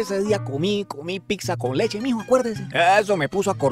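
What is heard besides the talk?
None of the usual background noises is heard.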